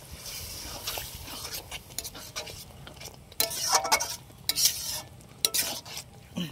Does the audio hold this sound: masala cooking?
yes